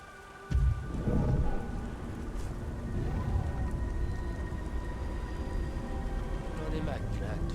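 Steady heavy rain with a low thunder rumble in the video game Beyond: Two Souls, a sharp crack early on and then constant downpour, with talk under the storm.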